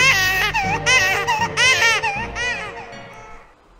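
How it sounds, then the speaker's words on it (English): Newborn baby cries sound in rapid, wailing bursts, loud and close, with a laughing, giggly quality at times before fading near the end. "Put little baby noises over here, like newborn baby noises."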